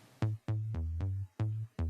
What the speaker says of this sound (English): And then with that I have layered agile synth bass.